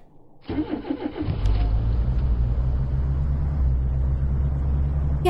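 A car engine cranks and catches, then settles into a steady, loud, low rumble as it idles and pulls away, with no voices over it.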